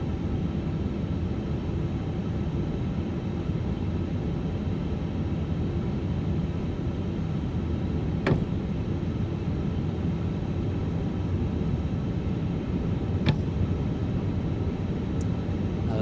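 Airliner taxiing in Microsoft Flight Simulator 2024 on the way out of Amsterdam, a steady low engine rumble and broadband hiss holding even throughout, with two brief sharp clicks partway through and no voices.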